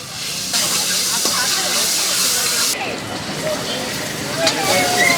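Onion frying in a pan for Maggi noodles at a street food stall in East Delhi, a steady loud sizzle and hiss running throughout, with people talking over it.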